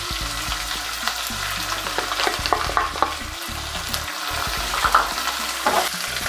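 Finely ground onion and curry leaves fry in a pan with dried chillies, a close crackling sizzle broken by scraping and stirring knocks, no voices.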